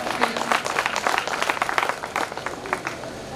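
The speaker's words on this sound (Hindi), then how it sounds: "तालियां बजाकर थोड़ा सा उत्साह बढ़ा देंगे" Scattered applause from a modest crowd, a burst of hand claps that rises and then thins out over a few seconds.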